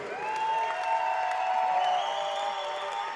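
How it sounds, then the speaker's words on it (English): Audience applause at a collegiate gymnastics meet between Cal, Pitt and Ohio State, a steady wash of clapping from a crowd with light cheering, moderately loud and continuous throughout. "Please give a round of applause for Claire Gagliardi"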